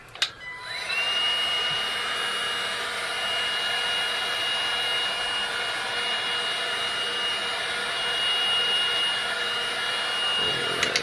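A heat gun warms vinyl wrap on a Ford Fusion fog light. Its loud, steady blowing whine with a high tonal edge runs nearly the whole time after a short click-on.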